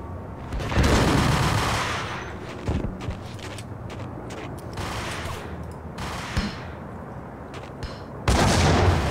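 Shotgun gunfire in the video game Max Payne, with several loud blasts and booming reports scattered through a dense, noisy firefight, the heaviest bursts near the start and the end.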